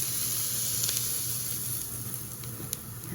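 Shrimp frying in hot oil in a pan for a pasta dish, a close, steady sizzling hiss with a few sharp spits and pops, heard alone with no talking.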